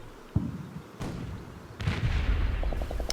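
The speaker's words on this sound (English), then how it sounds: "they're shelling and shooting this part of the hedge" Artillery shelling and gunfire in the Combat Mission: Battle for Normandy war game, with several heavy booming blasts and crackling shots striking a hedgerow, loud and close, followed by a rapid run of smaller reports, with no talk.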